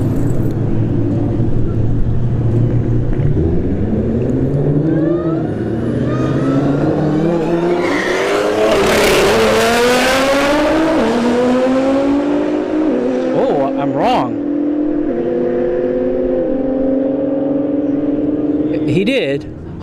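A Nissan GTR and a Dodge Hellcat roar down a drag strip side by side, engines rising in pitch through several gear shifts before fading away, with an announcer talking over the loud, close run.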